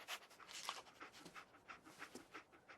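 Dogmeat, a German Shepherd-like dog in Fallout 4, pants close and quick in a steady rhythmic stream of short, breathy huffs, alone and fairly quiet.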